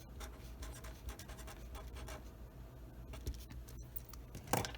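Pen scratching steadily as someone writes out a math row and column in the margin, a continuous dry scraping with small pauses, close and alone with no talking.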